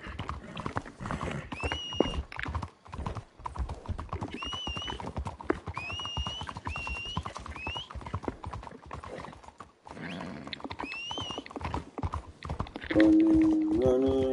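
Horse hooves clip-clopping steadily in the video game Red Dead Redemption, a close, rhythmic trot with occasional neighs and whinnies riding above it and a brief break partway through.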